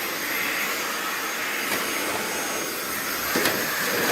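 A Bosch cordless stick vacuum cleaner runs steadily with a loud, even whooshing hiss of airflow throughout, close by and alone with no voices.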